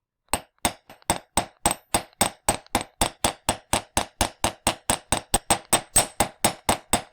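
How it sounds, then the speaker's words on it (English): A hammer strikes jewelry metal on a block in a steady run of roughly two dozen sharp, ringing metallic blows, loud and close, with no talking. "Now I'm hammering, but I'm kind of pulling, right?"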